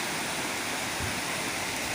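A waterfall at a natural tiered cascade in Phayao, Thailand, sends out a steady, dense roar of rushing water, loud and even throughout, with no voices.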